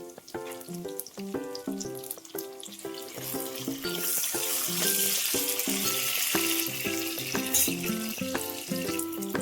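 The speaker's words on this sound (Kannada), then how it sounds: "ಟೊಮೆಟೊ ಕೂಡ ಹಾಕ್ಕೊಳ್ಳೋಣ." Tomato frying in a pan for country-style chicken sambar: a steady, close sizzle that builds partway through and stays loud beneath rhythmic background music.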